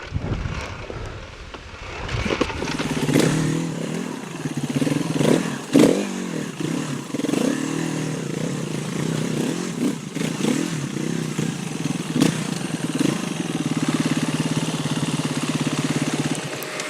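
A KTM Freeride E-XC electric dirt bike crawls over rough trials terrain, its motor whine rising and falling in surges with wind buffeting the microphone and scattered knocks from the ground throughout.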